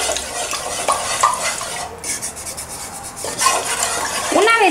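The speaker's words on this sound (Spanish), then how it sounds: "Con una palita de madera vamos a mezclar o a disolver la maicena que le acabamos de poner." A wooden spatula stirs cornstarch into water in a pot, making continuous scraping and swishing with occasional knocks against the pot's sides, close and steady throughout.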